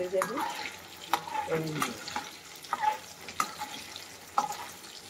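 Taro pieces fry over a high flame in a pan, a soft steady sizzle punctuated by repeated spoon scrapes and clinks as they are stirred.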